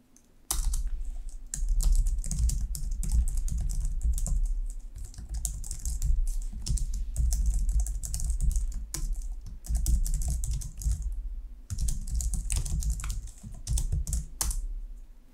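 Fast, continuous typing on a computer keyboard while programming a C# chess game, dense clattering keystrokes close by with a couple of short pauses, no speech.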